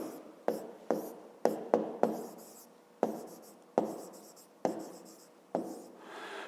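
A pen writes on paper in quiet, close taps and strokes, with about a dozen separate scratchy marks and short pauses between them.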